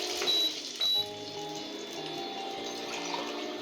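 Three glasses of water are poured over two glasses of rice for festival pitha, giving a steady, even splashing stream. Two short, higher tonal blips come near the start and a faint hum runs underneath.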